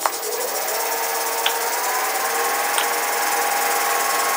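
A wood lathe turning a peppermill blank at about 1,100 RPM gives a steady whirring hum with faint high whine and a few small ticks, running alone.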